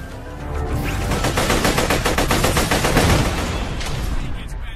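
Rapid sustained automatic gunfire aimed at turrets in the Borderlands Pre-Sequel video game, a dense loud burst of shots and impacts lasting several seconds.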